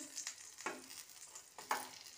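Food frying in a pan, a faint sizzle with a few soft scraping clinks as pieces are turned and lifted, quiet and close.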